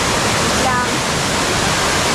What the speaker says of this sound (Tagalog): Ganda talaga ng falls.